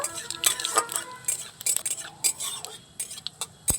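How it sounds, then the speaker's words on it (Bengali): Panch phoron spice seeds fry in hot mustard oil in a kadai, giving dense crackling sizzle broken by quick metallic clinks of a spoon against the pan, close and fairly loud throughout. "পাঁচ ফোড়নটাকে একটু ভেজে নেব"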